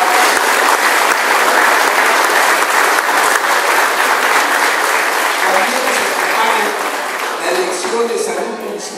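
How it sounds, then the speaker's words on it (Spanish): Loud, sustained applause from an audience honoring municipal health staff at a community health event, dense clapping that slowly thins toward the end. "Vamos a dar un fuerte aplauso a los del DIM municipal."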